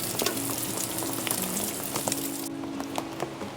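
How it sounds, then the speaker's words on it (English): Bacon frying in a pan at a rainy campsite, a dense steady sizzle with small spits and pops, close and alone without talk. "We're cooking bacon."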